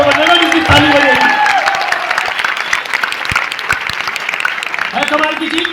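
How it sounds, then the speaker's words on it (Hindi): Loud audience applause fills a hall at a motivational product talk, dense steady clapping throughout with a few cheers, while a voice speaks over it near the start and again near the end. "अरे ताली बजा लो, पति रह जाओगे, करोड़पति वो बनेगा जिसकी ताली बजेगी।"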